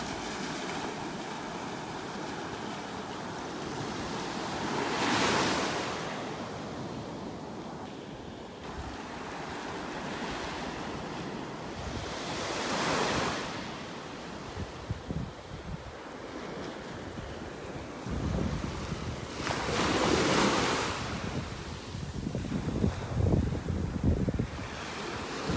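Ocean surf rolls onto a beach in North Naples, Florida, with steady wash and several louder breaking swells every few seconds, mixed with wind buffeting the microphone; no voices.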